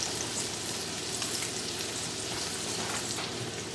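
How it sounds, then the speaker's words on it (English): Butter sizzling in a pan of golden-browned sautéed mushrooms, a steady, fairly quiet crackling hiss that holds evenly throughout with no voices. "add the butter"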